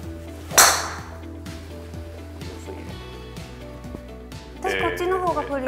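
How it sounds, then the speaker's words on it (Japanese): Golf driver fitted with a Tour 25 shaft striking a ball, one sharp, loud impact early on, followed by speech and a rising background noise. "ツアー25が入ったドライバーを打ちます"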